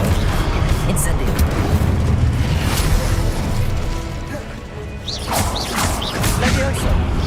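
Incendio fire spell cast in Hogwarts Legacy: loud booming bursts and crackling blasts of magic, with a softer lull midway before sharp sparkling flares return. Voices call out over the effects.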